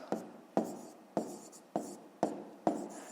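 A pen writes out a math solution on paper in six short, evenly spaced scratching strokes, close and quiet, with no talk over it.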